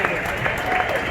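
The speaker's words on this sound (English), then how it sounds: "Give her a round of applause." A crowd at a Barrett-Jackson auction in 2020 claps in a short, dense burst of applause, mixed with voices.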